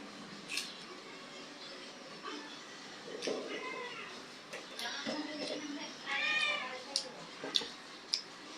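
A cat being bathed meows in a few short, high, wavering cries near the end, among scattered clicks and a soft background murmur.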